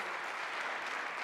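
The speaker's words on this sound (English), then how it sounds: "Can we give another round of applause to this great development team?" Steady applause from an audience, a dense continuous patter of clapping at moderate volume with no voices.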